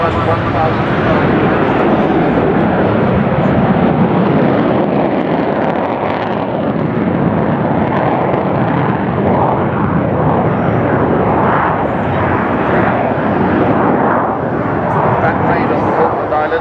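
An Avro Vulcan B2 XH558 jet bomber flying at the Dunsfold Wings & Wheels 2015 airshow: a loud, sustained, rumbling jet roar that swells and shifts throughout, with a voice talking beneath it.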